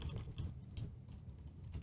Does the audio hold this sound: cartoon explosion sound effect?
no